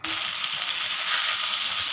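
Boneless chicken cubes and onion frying gently on a low flame, a steady soft sizzle that runs on alone without pause.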